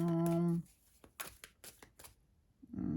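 A quick run of soft, papery flicks as a deck of tarot cards is shuffled, between brief stretches of speaking.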